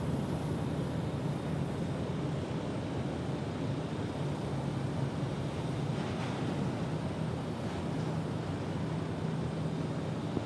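An Airbus A321neo airliner at Phoenix Sky Harbor: a steady, broad engine roar with a low hum holds evenly for the whole stretch, heard from a distance without talk.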